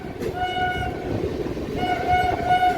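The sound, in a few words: local train running on Howrah–Belur Math line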